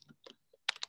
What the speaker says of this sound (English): I'm just typing that in as well.